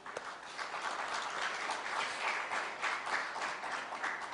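Audience applause at a satsang gathering, a steady wash of many hands clapping together at moderate distance, continuous throughout without a break.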